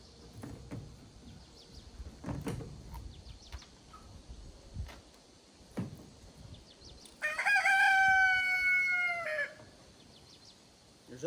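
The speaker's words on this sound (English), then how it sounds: "You thought roosters only crowed during the morning?" A rooster crows once, a loud, drawn-out harmonic call near the end, after several seconds of quiet farmyard background with faint clucks and scattered small noises.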